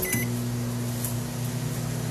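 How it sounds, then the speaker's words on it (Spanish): A kitchen microwave oven runs with a steady, close electrical hum and buzz that holds unchanged throughout, with a brief tone at the very start and no voices. "Voy para el microondas rapidito."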